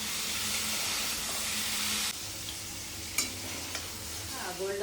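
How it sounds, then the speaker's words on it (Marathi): Paneer shallow-frying in ghee gives a steady, close hissing sizzle for about two seconds, then drops to a quieter simmer broken by a few sharp stirring clicks and scrapes. "पनीर चांगलं तुपात शॅलो फ्राय करायचं"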